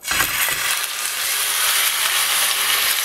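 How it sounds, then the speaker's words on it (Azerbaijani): Beef and chicken rolls fry in a pan used earlier for chicken, giving a steady, loud, close sizzle with a sharp burst at the start and no pause. "Toyuqlarımızı qızartdığımız həmən tavaya da sarmalarımızı əlavə edirik."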